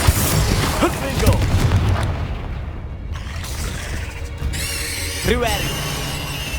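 Explosive Confringo and Bombarda spells from the Hogwarts Legacy video game go off in loud rumbling booms and bursts, with rising whooshes and squeals, layered over dense game effects.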